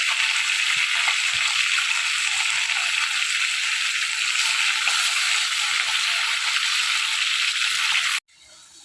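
Whole cumin and ginger tempering sizzle steadily in hot oil in a wok, a bright continuous frying hiss that runs loud and unbroken, then cuts off abruptly near the end.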